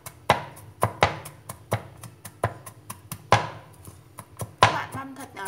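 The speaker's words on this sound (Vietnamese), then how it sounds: "Cái phần tỏi này thì các bạn sẽ đập dập và băm thật nhỏ ra cho mình nhé." Steady, close knife taps on a cutting board as crushed garlic is finely minced, quick irregular chops repeating throughout with no talking.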